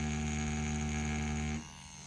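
A Dragonhawk Mast Racer Pro tattoo machine runs with a steady, close electric buzz and hum, then its tone drops abruptly near the end as it slows or switches mode.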